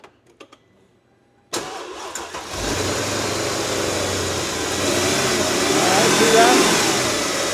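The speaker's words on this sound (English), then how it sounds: "He's going to start the engine, just move the throttle back and forth." Car engine with swirl flaps, V6 or V8 from 2006 to 2015, cranks and catches after a quiet start, then runs steadily while the throttle is worked back and forth, rising slightly; a person speaks briefly.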